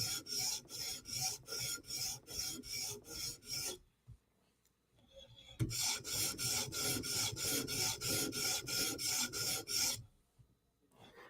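Chris Reeve Umnumzaan tanto blade being stroked across a sharpening stone in steady, even rasping passes, close and clear, with a short quiet pause midway before another run of regular strokes.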